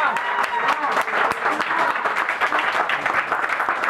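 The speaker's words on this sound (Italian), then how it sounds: "E ora molto spontaneamente un applauso" Group applause rising after a short off-road club briefing at a 24-hour non-stop event at Sassello Park, with steady dense clapping and a few voices mixed in throughout.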